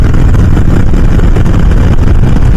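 A Harley-Davidson Low Rider motorcycle with a Milwaukee-Eight engine rumbles steadily and loudly throughout, a dense, continuous low engine throb with no talk over it.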